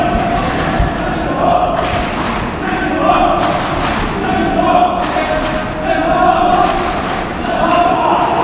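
Repeated dull thuds of a futsal ball being struck during a league match indoors, several kicks spread across the span with a steady crowd murmur and voices in the background.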